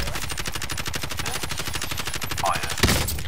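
Rapid, evenly spaced gunfire rattles continuously in a Call of Duty: Modern Warfare firefight, loud and close, ending in a sharper crack near the end.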